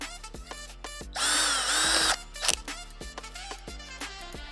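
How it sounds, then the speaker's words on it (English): A power drill bores a small pilot hole during an RV repair, one steady whine of about a second standing out loud and close among clicks and handling noises. "We need to drill a small pilot hole."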